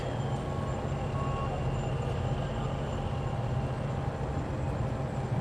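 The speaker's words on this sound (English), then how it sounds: "Maybe they will back up again with that truck" A truck at the SpaceX Starbase main gate in Boca Chica, Texas, backs up with its reversing alarm beeping steadily over a constant outdoor engine rumble, heard from a moderate distance with no talking.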